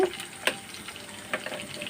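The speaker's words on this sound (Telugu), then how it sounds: "ఇలా బాగా పోపు అంతా వేగిన తర్వాత" Tempering spices crackling in hot oil for a beetroot fry, a soft low sizzle broken by a few sharp pops and spatters close by.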